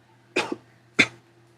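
Two quick coughs close to the listener, the first a double hack, the second a single sharp cough, with a low hum in the background.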